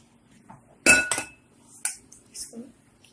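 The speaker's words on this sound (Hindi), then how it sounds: "अब मैं इसको छानूंगी" A metal sieve used to sift brownie cake mixture, giving a few sharp metallic clinks and taps against a bowl, then lighter scattered clicks in an otherwise quiet kitchen.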